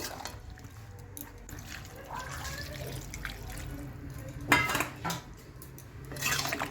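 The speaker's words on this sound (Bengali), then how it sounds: "সব সবজিগুলো দিয়ে ভালো করে কষিয়ে নিচ্ছি" Mixed shukto vegetables such as beans, eggplant and ridge gourd being stirred in a pan, heard as quiet, intermittent clinks and scrapes of a utensil on metal with faint moist rustling in between.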